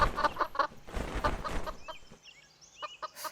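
A chicken in a video game gives several quick clucks in short bursts, close and clear, and then trails off into quieter sparse game sounds.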